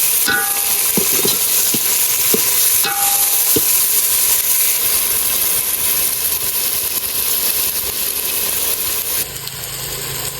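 Chopped tomatoes fry in hot oil for a Gujarati roasted-eggplant dish, giving a close, steady sizzle with a few clacking stirring strokes early on.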